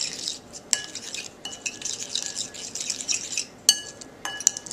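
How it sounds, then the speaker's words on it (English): Eggplant being stirred with paprika in a bowl, giving soft scraping and stirring noises broken by a few sharp utensil clinks against the bowl, close by with no talking. "Let's stir that up."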